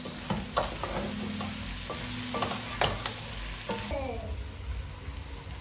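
Beef pilau being stirred in a pot, with repeated spoon scrapes and strokes over a steady sizzle of frying throughout, close and moderately loud.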